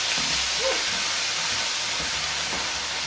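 Steady, loud steam hiss rises from a pot of arroz caldoso as fish stock is added to the rice, a continuous close sizzle with no break and no voices.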